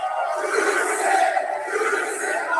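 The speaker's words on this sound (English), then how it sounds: "Loud crowd there from Toronto, Ontario." A loud arena crowd at a wrestling event in Toronto, Ontario roars continuously, with massed cheering voices swelling and holding at high volume.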